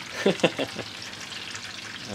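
Stinky tofu frying in a pan in the Taiwanese style, with a few sharp crackles and spatters early on before the oil settles into a steady, moderate sizzle; no one speaks.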